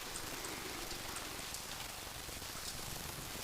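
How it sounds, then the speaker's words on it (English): Rain falls steadily on a rooftop at Incheon airport, a dense, even hiss of drops with occasional sharper patters, close and continuous with no voices. "rain sounds great"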